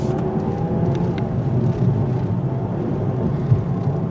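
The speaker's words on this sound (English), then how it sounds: "drive over speed bumps to test the ride quality" A 2017 Mazda 3 Grand Touring hatchback rolling at around 25 mph, with a steady broadband road and tire rumble heard from inside the cabin and a small thump near the end as it crosses a speed bump.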